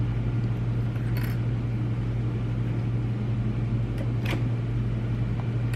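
Elna Elnita EF72 sewing machine stitching a straight line through four layers of fabric and cotton, giving a loud steady low motor hum that runs without a break, with a few faint clicks over it.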